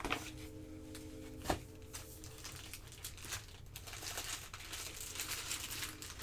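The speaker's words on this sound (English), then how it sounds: "This is like a maze trying to figure out how to unwrap these things." Crinkly plastic packaging around a new Apple iPad being unwrapped, with quiet, close crackling and rustling throughout and one sharper crinkle near the start.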